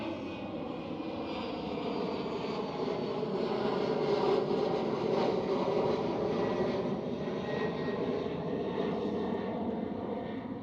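A KLM Cityhopper airliner in SkyTeam livery at Schiphol gives a steady, moderately loud engine drone with layered humming tones, holding fairly even throughout.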